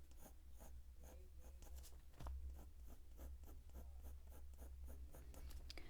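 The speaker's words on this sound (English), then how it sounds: "the way that the pencil is moving across the Pastelmat" Coloured pencil strokes scratching across Pastelmat paper while layering brown ochre into dog fur, a steady rhythm of short close scraping strokes with a low background hum and no talk.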